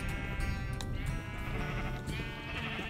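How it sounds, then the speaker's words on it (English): Sheep bleat in the Minecraft video game, the blocky flock producing loud, close, wavering calls that overlap and repeat throughout, with no talking. "There's another blue sheep."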